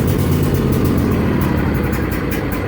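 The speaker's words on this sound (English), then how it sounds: "Then I can turn over the motor." Riding mower engine with the choke on and throttle all the way up running steadily at close range, a loud continuous rough rumble without pauses.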